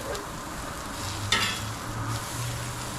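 Bacon-wrapped hot dogs cook in a pan on low heat, giving a steady, even sizzle close by with one brief clink partway through and no talk.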